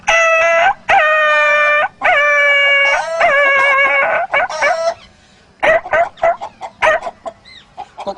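A man vocally imitates a dog yelping in pain after being struck with a stick, giving loud, close, repeated high-pitched yelps and whimpers in quick bursts, followed by shorter, choppier cries.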